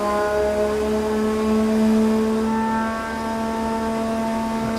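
A McLaren T.50 engine warming up idles at a steady, loud drone with strong sustained harmonic tones, held around one speed with only slight swells and no sharp revs.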